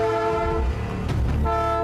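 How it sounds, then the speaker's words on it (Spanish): A heavy freight train loaded with stone blares its horn through a neighbourhood in Buenos Aires: a loud, sustained multi-tone blast, held nearly continuously, with a brief dip in the middle over rumbling wagons. "Parece que todos están acostumbrados a convivir con el sonido de la bocina"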